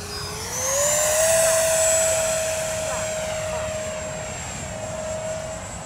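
A model Avro Vulcan jet makes a slow flypast, its steady turbine whine sliding up in pitch as it spools, then holding a loud, sustained tone as it passes close by, with no talking.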